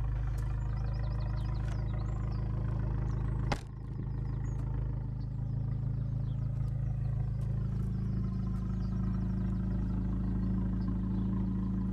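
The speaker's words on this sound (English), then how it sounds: "Superb sound from this car." A black Abarth 595 Competizione, 180 bhp, idles through its quad Monza exhaust with a deep, steady, throaty hum that holds nearly constant and close. A single sharp knock breaks in partway through, and the idle carries on unchanged afterwards.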